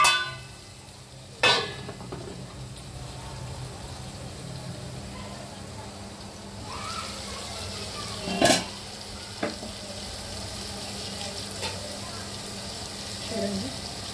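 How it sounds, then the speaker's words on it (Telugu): Chopped onions and green chillies fry in oil in a pan for prawn curry, a steady soft sizzle throughout, broken by a few metallic clangs of a spoon against the pan. "2 పెద్ద ఉల్లిపాయలు కట్ చేసుకున్నాను, 4 పచ్చిమిర్చి వేగనిద్దాము"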